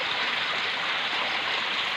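Stream water rushes steadily and close during a flood, a continuous broadband wash with no pauses and no voices.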